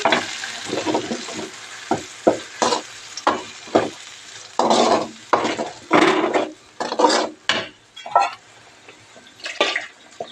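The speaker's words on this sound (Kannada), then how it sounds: "ಇವಾಗ ಟೊಮೊಟೊ ಮತ್ತು ಈರುಳ್ಳಿ ಫ್ರೈ ಆಗಿದೆ ಇವಾಗ ರುಬ್ಬಿರೋಂಥ ಮಸಾಲೆನ ಸೇರಿಸ್ತಾ ಇದ್ದೀನಿ" Ground masala paste being added to tomato and onion frying in a pan for palak paneer gravy, with repeated scraping strokes of a spoon and bursts of sizzling in an uneven rhythm, close and fairly loud, with no talk.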